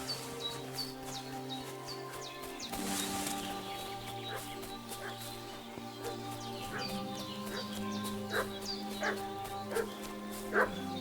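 A dog in Kingdom Come: Deliverance II barks and whimpers repeatedly in short yips over a steady outdoor backdrop with birdsong and soft music.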